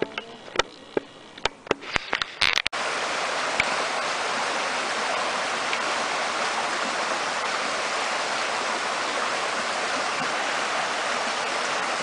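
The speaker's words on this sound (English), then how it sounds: "I hope you can hear the sound of the water." Water flows in a steady, continuous rush, heard close and fairly loud, after a few seconds of sharp clicks and handling knocks at the start.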